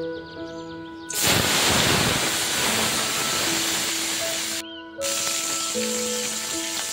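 Hilsa fish head sizzles as it drops into hot oil, a sudden loud, dense hiss that starts about a second in and holds steady, with one brief break near the fifth second, and no talking.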